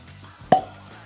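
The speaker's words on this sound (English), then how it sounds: "that's a good cork pop." A cork pops out of a tequila bottle: a single sharp, hollow plop that fades quickly against a quiet background.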